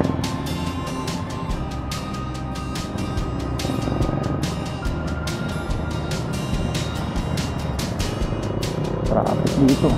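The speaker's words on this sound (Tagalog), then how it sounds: "Traffic dito." Road traffic in Tagbak, Jaro, Iloilo, heard from a moving tricycle: a continuous engine hum with passing vehicles and wind rushing over it, at moderate loudness.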